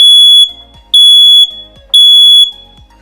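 Google Nest Protect smoke alarm sounding during a self-test, giving three loud, piercing electronic beeps about a second apart, each followed by a short gap.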